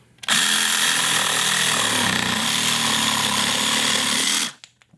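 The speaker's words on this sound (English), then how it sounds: "let's say you got to notch around a pipe or something like that. That's what a jigsaw is great for." A jigsaw cuts a notch, roaring loud and steady for about four seconds after a sudden start, then winding down quickly to silence.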